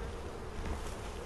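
A steady, dense buzzing of many honeybees at a hive entrance, close and continuous, with no voices.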